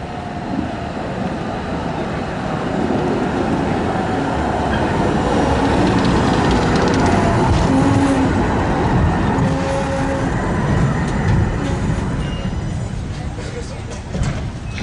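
A Budapest tram, a line 2 car by the Danube embankment, rolls past with a sustained rumbling roar and rail rattle that swells mid-pass and slowly fades, with faint wheel squeal.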